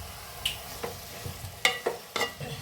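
Carrot halwa being mixed with ghee in a pan: a few soft scraping stirs and light clicks of a spoon against the pan, set over a faint sizzle, close and fairly quiet.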